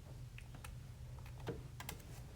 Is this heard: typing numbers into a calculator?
yes